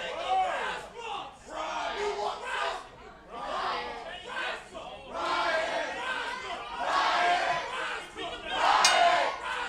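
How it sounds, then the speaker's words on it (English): A wrestling crowd cheering and chanting at a live rassling event, loud rolling waves of shouts and yells that swell and ebb, with a commentator's voice mixed in. "This match underway as the crowd is fired up."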